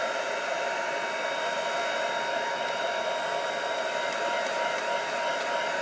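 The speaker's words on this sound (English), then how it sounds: "if I come back in with my heat gun on a gentle setting, that will help speed up the drying process" A heat gun on a gentle setting blows steadily over embossing shimmer on a decoupage piece, giving a loud, even, continuous hiss and hum like a hair dryer that runs unchanged and alone from start to finish.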